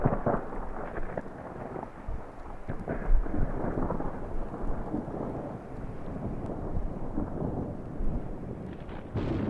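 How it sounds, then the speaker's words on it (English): Dry thunderstorm rolling over northwestern Montana's mountains, deep continuous rumbling thunder with rough, gusty low roar swelling and fading, a louder crack near the middle, no talk. "a massive dry thunderstorm rolled over northwestern Montana, erupting with 100 lightning strikes"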